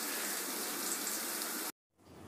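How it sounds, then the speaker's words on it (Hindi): Chickpea soaking water pours into a pressure cooker, a steady close splashing stream that cuts off abruptly, followed by a quieter trickle. "जो इसका चने का पानी है ये भी हम इसमें डाल देते हैं"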